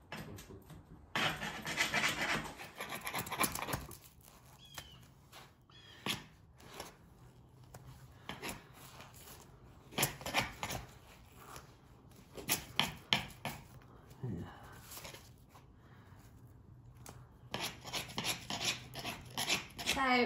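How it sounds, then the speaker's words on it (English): A chisel scrapes and knocks at hardened black oily residue stuck to a floor, producing irregular rasping strokes and sharp taps, close and fairly quiet, with occasional faint voices. "John is determined he's gonna chisel it up out of here though."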